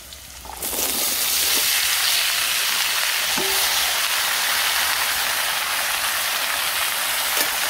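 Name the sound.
vegetables poured into a hot pot, sizzling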